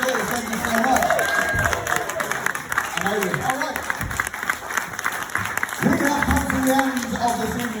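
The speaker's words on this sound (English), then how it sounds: "Give Phil and Matt a big round of applause, please." Comedy night crowd in a chapel venue in Middlesbrough claps and cheers, a busy mix of applause and murmuring voices with some talk over it, fairly distant and moderately loud.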